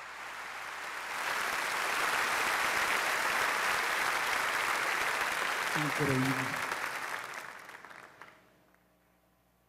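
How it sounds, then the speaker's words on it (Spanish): Church congregation applause swells in after a pause and rolls on as a thick, even wash of clapping for several seconds before fading, with a brief spoken word near the end as it dies away. "dele un buen aplauso en esta mañana"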